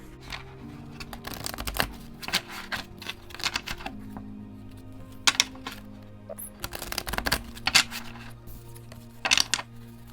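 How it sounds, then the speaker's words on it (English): Tarot cards being shuffled in repeated bursts of crisp riffling and soft slaps, with quiet pauses and a faint low hum between. "So I'm going to go ahead and start shuffling."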